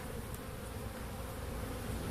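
Caucasian and Carniolan honeybees swarm aggressively at a hive, a dense, constant buzzing drone filling the air close by with no pauses.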